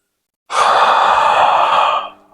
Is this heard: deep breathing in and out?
yes